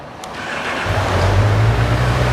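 A 2019 Honda CB1000R motorcycle with its stock exhaust starts up nearby and settles into a steady, rumbling idle that builds slightly in loudness, with no talking.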